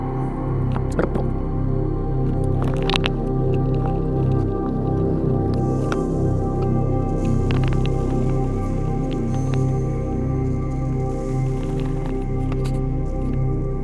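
Tung oil is worked into a handmade leather wallet with soft, wet squishing and dabbing sounds close up, over a steady low background hum.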